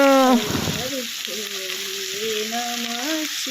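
Cauliflower florets fry in a pan of oil on a stovetop, giving a continuous hissing sizzle after a brief louder burst at the start, while a voice talks over it.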